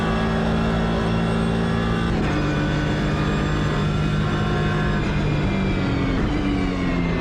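Engine of the Ligier JS2-R race car in the Automobilista 2 sim racing game, a steady loud drone with shifting harmonic tones as revs rise and fall, continuous throughout with no talking.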